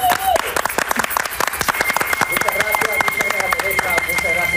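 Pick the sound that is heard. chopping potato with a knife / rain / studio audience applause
studio audience applause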